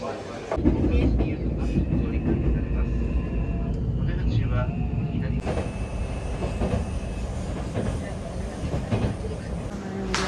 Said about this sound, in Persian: با قطار داریم حرکت میکنیم به سمت هاکونه